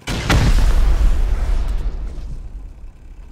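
A single loud, close rocket explosion goes off in Rust during a base raid, a sharp booming blast followed by a long rumbling decay with no talk over it.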